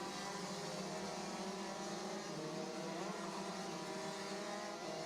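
Rotax DD2 racing karts in a Pan American championship final, a dense continuous engine drone from several karts at once, steady and even throughout with no pauses.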